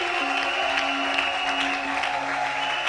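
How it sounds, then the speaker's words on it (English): Audience clapping at a church conference service, steady dense applause filling the room throughout, with a sustained tonal hum underneath and no clear speech. "Is that the only way you can clap?"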